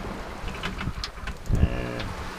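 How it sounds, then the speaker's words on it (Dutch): Gusty wind buffets the microphone over the rush of water aboard a sailboat at sea between Gran Canaria and Madeira, with a few creaks and knocks and a brief low hum near the end. "De wind begint nu net weer een beetje toe te nemen."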